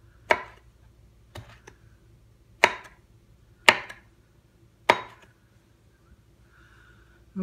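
A sharp knife chops through tomatoes on a cutting board, five or six crisp, separate knife strikes at an uneven pace, close and fairly loud against a quiet room.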